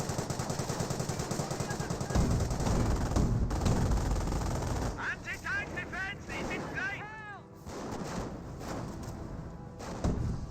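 Rapid machine-gun fire and gunshots in a Company of Heroes 1 battle between US and Panzer Elite forces, dense continuous bursts at first, then thinning out under a voice and other game sounds.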